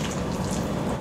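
Blended nut milk pours steadily into a straining bag, making a continuous close liquid splashing and gurgling rush with no talk.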